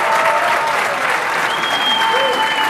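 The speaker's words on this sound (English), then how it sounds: "One more big round of applause." An audience at a product launch gives a big round of applause for Holly Stout, a dense, continuous wash of clapping from a large crowd, steady and fairly loud, with a few voices faintly audible beneath.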